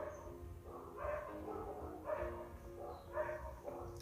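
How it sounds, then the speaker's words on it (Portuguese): Several dogs bark in repeated bursts about a second apart, moderately distant, over a low background hum. "Os cachorros latindo"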